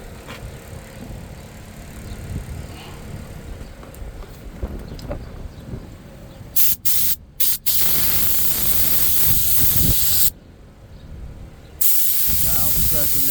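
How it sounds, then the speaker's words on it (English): Vinyl repair product is sprayed onto a 2020 Ford Explorer car seat, giving several loud hissing bursts, some short and choppy, then longer sustained blasts, over a background of faint talk and handling noise. "Hold the camera and spray."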